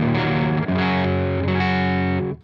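A guitar through the Magnatone SL-100 amp's low input, mostly clean, rings out in a few sustained chords across about two seconds, strummed close and steady, with no voice.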